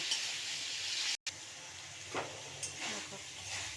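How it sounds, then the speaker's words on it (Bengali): Soybean chunks and potato fry in a pan with ground spice paste for a vegetarian dish, giving a steady close sizzle broken by a few stirring scrapes. "এখানে ভালো করে কষিয়ে নিচ্ছি একটু মশলার জলটা দিয়ে আবার ভালো করে কষিয়ে নেব"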